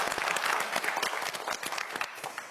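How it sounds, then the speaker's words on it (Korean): Studio audience applauding a student contestant on a Korean science quiz show, a dense steady burst of many hands clapping at once, close and continuous. "박수 한번 보내주세요."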